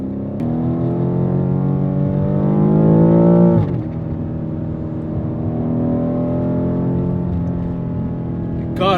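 A BMW F90 M5 engine set to its most aggressive mode runs in a deep, steady drone that swells once into a rev and settles back to a loud, even hum.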